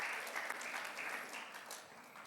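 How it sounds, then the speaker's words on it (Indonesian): Congregation applause at a Sunday church service fills the space with steady, dense clapping from many hands, even and sustained throughout without pause. "tepuk tangan bagi Tuhan Yesus"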